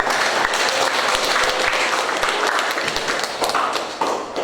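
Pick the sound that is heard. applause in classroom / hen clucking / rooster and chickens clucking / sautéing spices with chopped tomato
applause in classroom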